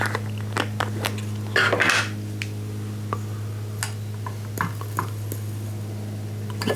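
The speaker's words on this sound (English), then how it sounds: "I want to add 2 teaspoons of the caraway seeds" Caraway seeds spooned into a container for homemade aquavit, giving soft scattered ticks and light clinks of spoon against glass, a few brief rustling pours among quiet pauses, close and gentle over a steady low hum.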